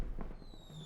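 Fireworks sound effect in a scary story: a quick cluster of faint crackling pops and small bursts, low in level, followed by a thin fading whistle.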